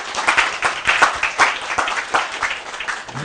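An audience claps to welcome a speaker at an ad-tech and marketing talk, a moderate crowd's applause with distinct, uneven hand claps that stay fairly steady throughout.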